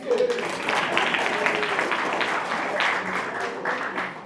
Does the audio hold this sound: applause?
yes